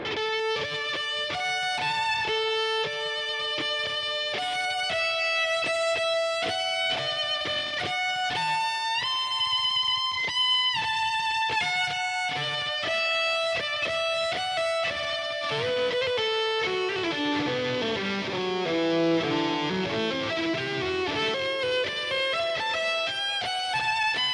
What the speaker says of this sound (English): Wow, that is a high overdrive.